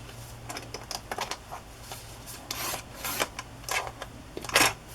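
A paper trimmer slices paper for a handmade reader's journal, producing soft scraping and rasping strokes in several uneven bursts, close and fairly quiet, with no speech.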